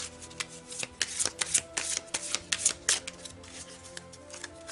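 Oracle cards shuffled and cut by hand, a rapid irregular run of crisp riffling slaps and flicks, close and fairly quiet, with no speech.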